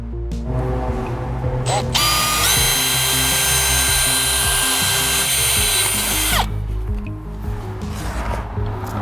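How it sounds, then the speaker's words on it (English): A power drill whines loudly for about four seconds while drilling during a brake controller install on a Jeep Gladiator, steady high-pitched motor noise with a clicking mechanical start and stop, close by. "now we're ready to drill."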